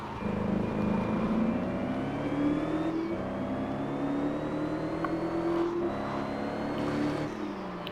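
A car engine in the racing game Gear.Club Unlimited 2 accelerates through rising gear pulls, its revving tone climbing steadily with short dips at each shift, loud and continuous with no talk.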